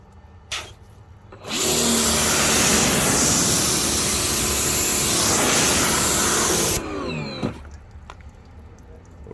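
A water spray rinses degreaser off a car's plastic trim, a loud, steady hiss that runs for about five seconds close by before cutting off, with quieter handling noises before and after and no talk.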